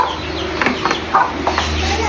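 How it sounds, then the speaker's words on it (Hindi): A hen clucks while feeding her chicks, giving a few short, close clucks in uneven bursts over a steady low background hum. "ये मुर्गी भी अपने बच्चों को खिला रही है"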